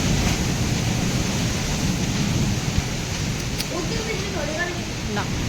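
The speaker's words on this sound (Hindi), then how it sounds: "भाई साहब बहुत भयंकर तूफान आ रहा" A village thunderstorm roars with dense rain and wind as a steady, loud wash of noise, low thunder rumbling underneath throughout and faint thin sounds rising near the end, with no talking.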